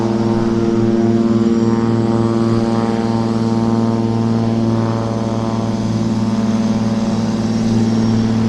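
A de Havilland floatplane engine drones steadily at Vancouver Harbour, a loud sustained propeller roar with strong low harmonics that stays close and even throughout, with no voices.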